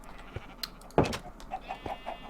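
Sheep in the Minecraft video game bleat in a few short, soft calls at moderate distance, accompanied by small blocky game effects and faint farm-animal ambience, with no talking.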